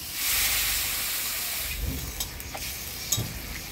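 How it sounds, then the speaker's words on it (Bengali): Water poured into hot tempered oil with mango, turmeric and salt hisses and steams loudly, then the hiss fades into quieter sizzling with a few small clinks. "আমটা হলুদ লবণ দিয়ে ফোড়নের তেলে নাড়াচাড়া করে নিলাম। এবার জল দিয়ে দিই।"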